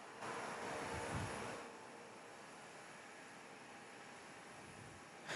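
An airliner lines up on runway 24 at Perth Airport, its engines giving a distant, steady broadband roar that swells slightly early on and then settles to an even hum.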